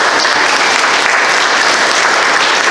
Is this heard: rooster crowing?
no